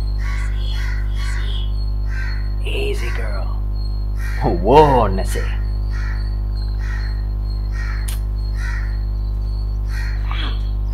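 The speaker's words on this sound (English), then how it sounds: "I swear I'm gonna shoot that crow with a bow and arrow." A crow caws harshly a few times in The Last of Us, one loud burst in the middle and fainter calls around it, over a steady low hum while a person speaks calmly to a horse.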